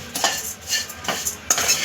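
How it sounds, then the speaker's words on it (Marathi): Dry poha flakes roasted without oil in a kadhai, stirred with a metal spoon: a few scraping, rustling strokes in an uneven rhythm, close and moderately quiet, with no voices. "कढईमध्ये हे पोहे फक्त भाजून घ्यायचे नॉर्मली, म्हणजे तेलात नाही करायचे"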